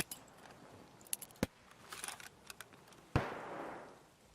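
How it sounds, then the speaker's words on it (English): Flash grenade going off in the video game Escape from Tarkov, a dry, short, not very loud burst after a few faint clicks and taps, alone without voices. "Flash grenades, for example, they sound exactly the same at the moment that they hit something, but they make a different sound when they explode."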